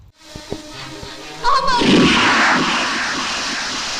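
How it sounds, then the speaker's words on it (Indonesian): A single gunshot in a film scene cracks out loudly, followed by a booming, rumbling tail that slowly fades beneath a background score, with no voices. "Amar pun tak tega melihat Sanjana terluka dan terpaksa menembak Raju hingga modiar."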